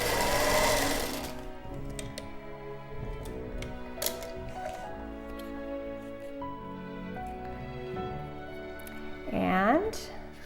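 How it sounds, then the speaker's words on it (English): A sewing machine stitches along a fabric edge rolled under twice on pre-quilted tote fabric, giving a steady close mechanical whir with light ticking, under a voice, ending with a brief louder burst. "I'm going to sew along here to hide that raw edge."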